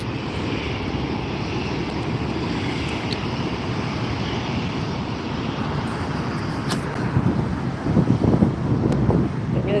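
Delta airliner taxiing at LAX: a steady, loud low engine rumble and hiss with wind buffeting the microphone, swelling slightly toward the end.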